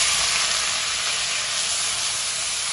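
Onions dropped into hot oil with cumin in a pan, giving a loud, steady hiss of sizzling that holds evenly throughout without any talk.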